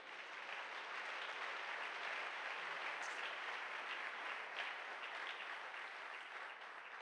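A church congregation applauding, a sustained wash of clapping from many hands, fairly faint and distant, holding steady for several seconds without speech.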